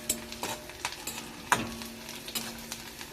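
Chili and garlic frying with onion in a pan, a soft background sizzle punctuated by irregular spatula scrapes and taps as the mix is stirred, fairly quiet and close.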